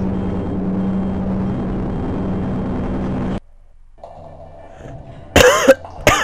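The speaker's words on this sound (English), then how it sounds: "If I could clear my throat first" A man coughs and clears his throat in a couple of sharp, close bursts near the end, after a steady background drone and a brief quiet gap.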